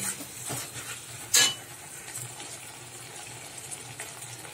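Prawns fry with onion, garlic, tomato and chilli in a pan, giving a steady low sizzle with soft stirring scrapes and one sharp metallic clink early on; no one speaks.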